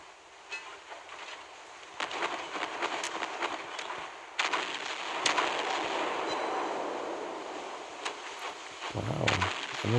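Naval gunfire from the King George V (Howe) battleship in the Naval Creed game, a run of sharp rapid blasts over a rumbling battle bed, with a heavy low boom near the end.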